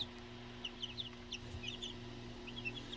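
Young Jubilee Brahma chicks with feathered feet cheep in a quick series of high, faint peeps over a low background hum, the calls coming in short clusters across a few seconds.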